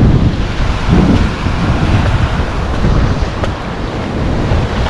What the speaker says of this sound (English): We get these freak waves all the time.